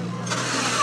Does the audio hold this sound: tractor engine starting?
yes